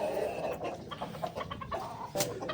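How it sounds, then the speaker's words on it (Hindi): A red hen clucks in a backyard bird enclosure among roaming chickens, short repeated calls near and moderately loud over steady background noise, no talk. "मुर्गी भी इसके ऊपर अपना वो दिखा रही है जी"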